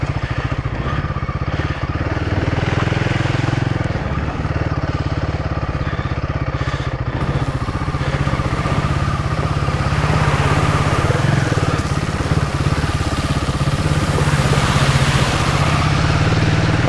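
A Royal Enfield Himalayan 450 motorcycle on stock tyres rides through mud, its single-cylinder engine droning steadily and loud near the listener, revving slightly as it works for grip, with no talk.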